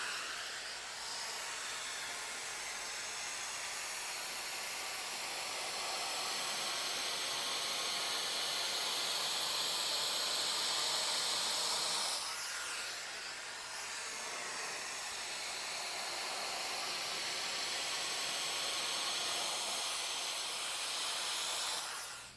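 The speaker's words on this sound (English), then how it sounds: "So we'll turn on our vacuum." A Neakasa Magic 1 handheld vacuum steamer runs continuously on a cotton t-shirt, giving a steady, close, airy hiss that briefly dips midway and then resumes, with no one talking.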